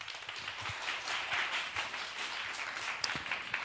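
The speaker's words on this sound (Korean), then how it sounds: "우리 하나님께 영광의 박수를 냅시다." Congregation clapping at a youth worship service in a church hall, continuous and fairly dense with a few sharper individual claps standing out.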